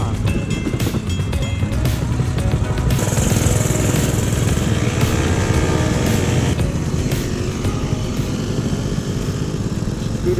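A small engine buzzes steadily while riding, with wind noise and some rattling, continuous and close throughout.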